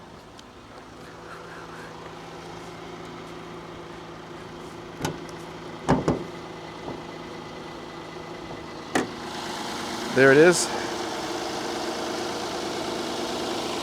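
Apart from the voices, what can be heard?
Land Rover engine idling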